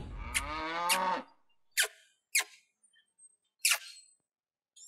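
Buffaloes low in a rural setting: a long, deep moo opens loud and close, then a few short, sharper animal squeaks and snorts follow at intervals with quiet gaps between.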